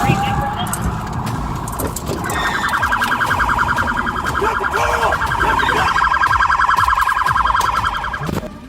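Police car siren wailing during a high-speed chase along Bethsaida Road toward Highway 314, a loud, steady warbling tone that swells and holds for several seconds over car noise and a voice.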